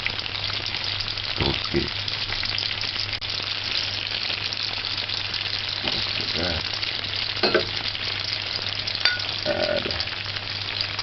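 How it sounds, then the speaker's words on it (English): Seasoning for a mixed vegetable saltfish dish frying and caramelizing in a pan, a dense steady sizzle with occasional stirring clinks while a person talks briefly over it. "But this method, I'm adding the seasoning first. Just allow that to caramel."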